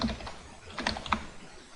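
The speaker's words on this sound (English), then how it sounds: "and then I just type in something random" Typing on a computer keyboard while entering text, heard as a short run of light, irregular key clicks, fairly quiet and close, with no voices.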